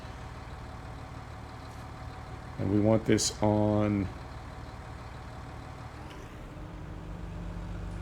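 A tractor engine in Farming Simulator 19 idles with a low, steady hum throughout and rises a little in the last seconds, while someone talks briefly over it.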